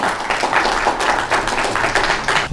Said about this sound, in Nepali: एकचोटि जोरदार तालीले स्वागत गरौँ उहाँको।